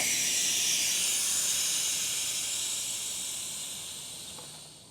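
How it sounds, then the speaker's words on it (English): Air hissing steadily out of an open bicycle tire valve, a continuous loud hiss that slowly fades over several seconds, with no talking. "You just take out that valve, you're going to hear all the air start releasing."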